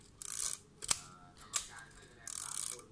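A film camera's advance lever is cranked to wind on the film, giving quiet mechanical ratcheting sweeps with sharp clicks between them. Close and faint in a still room.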